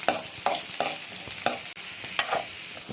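Onions sizzling in hot oil with cumin in a pan on a stove, steady frying hiss broken by repeated rhythmic stirring scrapes about every half second, no voices.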